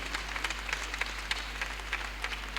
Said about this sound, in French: Alors, vous pouvez applaudir très fort